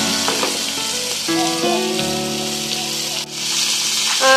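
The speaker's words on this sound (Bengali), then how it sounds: "পেঁয়াজটাকে লাল লাল করে ভেজে নিতে হবে।" Onions frying in a pan for a fish curry, a bright crackling sizzle under sustained tonal hum and ringing, with a brief dip and rise partway through.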